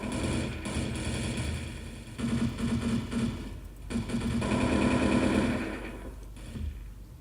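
Sustained automatic gunfire in the mobile shooter game Blood Strike, dense rattling bursts with brief gaps, heard loud and continuous over a mechanical background.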